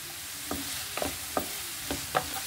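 Tomatoes fry quietly in a pan with turmeric, a low, soft sizzle broken by about five distinct scrapes and taps of a spoon stirring, close but faint.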